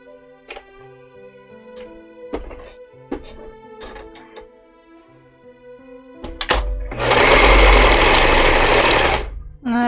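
A sewing machine stitching fabric for a cosplay costume starts up about two-thirds of the way in and runs as a loud, steady, close whir for a couple of seconds before stopping, after quieter sparse tones and knocks.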